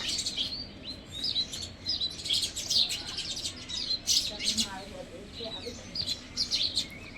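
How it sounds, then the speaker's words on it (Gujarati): Many sparrows chirping together near a village home, a busy, continuous stream of bright, overlapping tweets at moderate distance with faint background noise and no speech. "ચકલીઓ જોજી કેટલી બધી આવી ગઈ."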